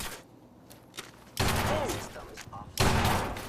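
Bursts of pistol fire in the video game Fallout 4, two loud gunfire volleys breaking in over game sounds, with a voice speaking in the quieter stretch between them.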